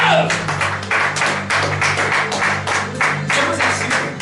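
A church congregation at a Sunday service clapping and cheering to praise God, rhythmic bursts of applause repeating roughly every half second over a low sustained musical hum, loud and close.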